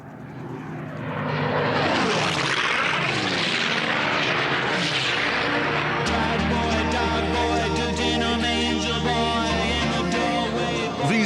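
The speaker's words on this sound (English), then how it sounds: "These planes are doing 500 miles an hour, 50 feet from the deck." Racing planes scream along a low-level pylon course at around 500 mph. A loud propeller-engine roar swells as they sweep past, with pitch swooping downward, then settles into a sustained, close, buzzing drone.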